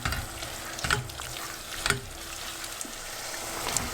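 Chickpeas fry and sizzle in a pan on medium heat, with a steady crackle broken by a few sharp scrapes and clacks of a spoon stirring, close and without speech.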